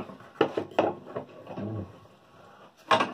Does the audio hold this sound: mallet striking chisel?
yes